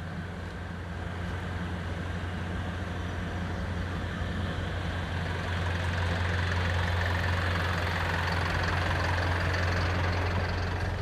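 An Isuzu NLR 130 hp dump truck with a 4-ton tipping bed idles with the PTO engaged, a steady low diesel drone that rises slightly as the engine is revved to raise the bed, with no talk.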